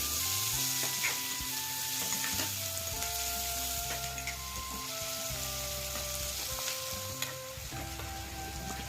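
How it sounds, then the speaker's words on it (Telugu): Chopped onions being stirred as they fry in hot oil for a raw banana fry curry, giving a steady, close sizzle with soft stirring scrapes throughout, over background music. "తరిగిన ఉల్లి ముక్కలన్నీ కూడా యాడ్ చేసుకున్న తర్వాత చక్కగా కలుపుకుంటున్నాను."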